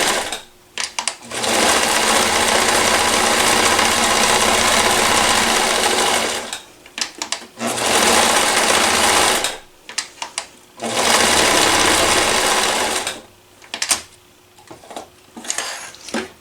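A Koyo sewing machine stitches a blind hem, loud and close, running in long continuous bursts separated by short pauses with small mechanical clicks, no talking.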